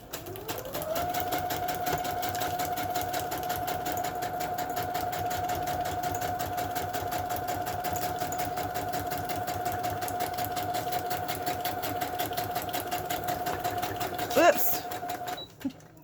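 A sewing machine runs a continuous straight stitch across coffee-dyed parchment paper, a steady rapid whir for about fifteen seconds before stopping with a soft clunk.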